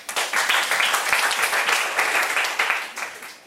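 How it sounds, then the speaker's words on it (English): Audience applause at a Toastmasters club anniversary meeting, a sustained crowd clapping that rises quickly, stays loud and even, then tapers slightly at the end. "let's give him a applause again."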